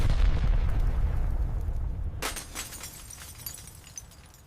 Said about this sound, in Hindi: एक सफेद Hyundai i20 में हुआ एक जोरदार विस्फोट